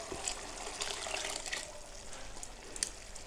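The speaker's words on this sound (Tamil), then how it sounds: "கடலை போட்டிருக்கிறதுனால தண்ணி கொஞ்சம் தாராளமாக சேர்த்துக்கலாம்." Water streams steadily into a cooking pot of tomato kurma close by, a continuous splashing pour with no voices.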